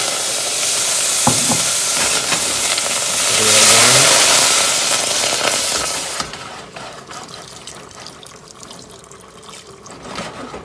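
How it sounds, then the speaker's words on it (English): Raspberries drop into a hot pan on the stove and set off a loud, steady sizzle with stirring clatter. The frying hiss swells midway, then falls to a quieter simmer with soft scraping. "I'm going to go ahead and put my berries in first"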